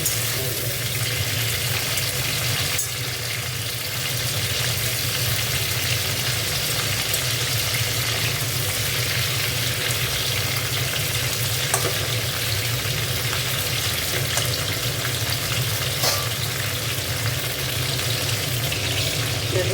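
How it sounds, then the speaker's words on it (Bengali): Cauliflower florets fry in a hot pan for a cauliflower and potato curry, giving a loud, continuous sizzle with crackles that holds steady for about twenty seconds, with no talking. "ফুলকপিটা ভাজছি, আর একটু ভাজলে"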